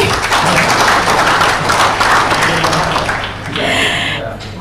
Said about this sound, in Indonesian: Boleh kita berikan aplaus sekali lagi?